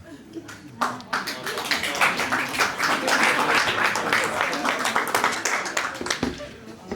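An audience claps continuously for several seconds, a dense, lively round of applause with a few louder individual claps standing out.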